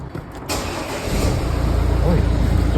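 A 1.6 diesel car engine starts after a brief crank and settles into a rough, clattering idle, loud and close. Some people talk and move around at the start.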